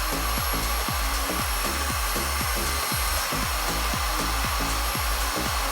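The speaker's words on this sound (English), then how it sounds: "You're gonna aim it right down at the root and blow out all those short hairs, and then blow dry down the shaft." A hair dryer blows steadily and loudly, close up, as it dries hair with an airtouch blonde technique, its airflow broken by a quick, regular pulsing rhythm.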